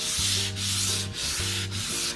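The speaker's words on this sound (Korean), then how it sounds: "면을 사포질 하실 때는 나무 결을 따라서 해주시는 것이 좋을 것 같습니다." Sandpaper rubbing across a camphor wood cutting board in steady back-and-forth strokes, about four long rasping passes with brief pauses between them, close and fairly loud with no voices.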